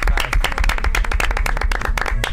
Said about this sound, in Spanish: Aplausos para Maripaz.